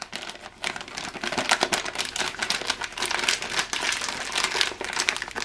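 Crinkly plastic packaging around an MRE flameless ration heater being folded and pressed, producing dense, continuous crackling and rustling up close, with quick bursts of crumpling throughout.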